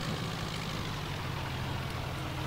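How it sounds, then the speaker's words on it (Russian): A tractor engine in the video game Farming Simulator 2015 runs in a steady low diesel drone, a continuous quiet rumble with no change in pitch and no voices over it. "По-моему, этот трактор даже назад ездит быстрее, чем тут."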